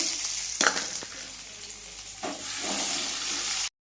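Crushed garlic and ginger hit hot oil with cumin in a wok, giving a steady close sizzle with two sharp bursts of crackle as they are stirred, no voices present.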